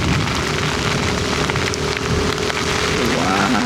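Rain falling outdoors makes a dense, steady hiss that fills the whole moment, with a voice rising faintly near the end.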